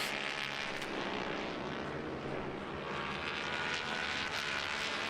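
Twins Cup twin-cylinder road-racing motorcycles at Pittsburgh in 2020 run side by side down the front straightaway, giving a loud, continuous engine roar that holds steady throughout.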